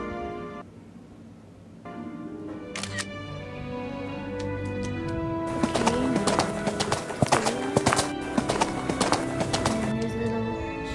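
Horse hooves clip-clop steadily in the horse video game HRT, a dense run of hoof beats that grows busier near a bridge, with background music and ambient game sounds.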